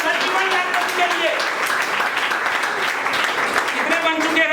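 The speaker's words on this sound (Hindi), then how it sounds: "एक बार जोरदार तालियां 31 लाखपति के लिए।" Audience applauding at a field developers' leaders meeting, steady sustained clapping across the whole stretch, loud and dense with a voice talking over it.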